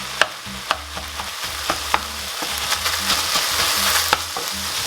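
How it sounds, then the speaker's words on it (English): Ground beef mince frying in a pan for a beef and onion pie, a steady close sizzle broken by repeated sharp scrapes and clicks of stirring, with no talking. "We're just going to cook that mince now right off until the mince is browned off."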